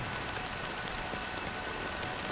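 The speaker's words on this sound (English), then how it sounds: "but it's still raining" Steady rainfall from the video game Honkai Star Rail, a dense even hiss of drops pattering on surfaces, constant and close throughout with no voices.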